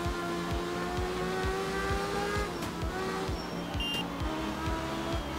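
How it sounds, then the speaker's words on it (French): Rotary-engined rally car in the video game Art of Rally, a buzzing high-revving drone with rhythmic gear-change pulses and shifting pitch, steady and moderately loud over faint tyre and gravel noise, no talk. "le bruit de ce rotatif"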